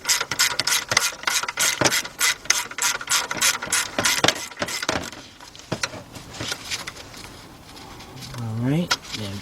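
Rapid ratchet wrench clicks in quick bursts as a 7/16 socket works a bolt on the alternator of a 1977 Buick LeSabre, the clicking close and loud, then slowing into scattered clanks of metal.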